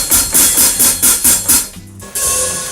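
Hi-hat played with the foot pedal, its vented bottom cymbal covered perfectly flat, giving about six crisp, evenly spaced closed chicks, close and loud, then a brief pause and a sustained ringing wash.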